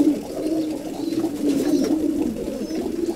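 Homing pigeons cooing, a low murmuring stream of overlapping coos close by, continuous and moderately loud with faint background noise and no talk.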